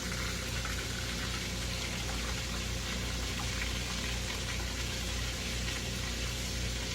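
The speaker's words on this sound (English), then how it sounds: "they're frying good now, so go ahead and put my steak fingers in here." Strips of steak fingers frying in hot oil in a pan, a steady dense sizzle with bubbling that runs unbroken and fairly close for the whole stretch.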